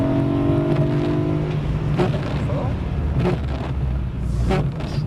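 BMW M3 E92 engine accelerating on a race track: loud sustained engine roar with rising revs and a few sharp bursts, while an instructor talks.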